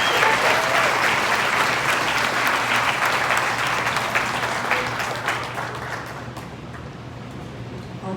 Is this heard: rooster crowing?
no